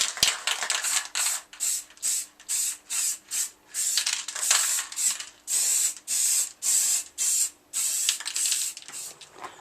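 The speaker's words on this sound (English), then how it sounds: "So just a quick layer of primer just to make it stick." Short hissing bursts from a spray can of primer lay a thin coat on mirrors, roughly a dozen rhythmic sprays with brief gaps between them, close and fairly quiet, with no talking.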